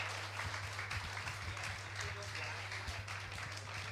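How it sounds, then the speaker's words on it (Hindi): Applause from an audience at a Jain community gathering with a visiting monk in Kunkuri, Jashpur, Chhattisgarh, steady and moderately loud over a low constant hum, with a voice speaking now and then over the clapping. "तालियां बजती रहनी चाहिए"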